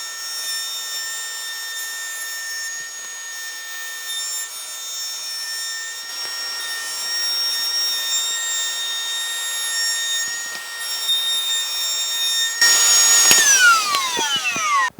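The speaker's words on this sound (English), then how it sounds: "I'm using a 1/4 inch round over bit here, since this is a 1/2 inch piece of plywood." A router with a 1/4 inch round over bit cuts along the edge of 1/2 inch plywood, giving a steady, loud high whine with sustained tones. Near the end the pitch sweeps down as the motor spins down.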